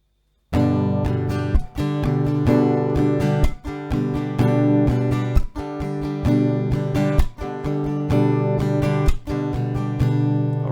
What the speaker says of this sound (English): So if you choose to do the strumming, it will be this strumming.